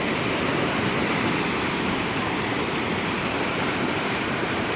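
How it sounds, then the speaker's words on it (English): Water roars steadily past a bridge over a dredged creek in Vestal, New York, a loud, continuous rushing wash with no pauses and no voices. "as you can hear from the roar of the water, we are doing fine"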